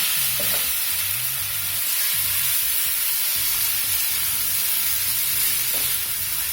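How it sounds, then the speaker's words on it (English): Stir-fried vegetables sizzle in a pot of veggie ramen noodles, a loud, unbroken hiss close up with faint low knocks from stirring underneath, and no voices. "now I'm going to add the stir-fried vegetables to it. And just give it a stir."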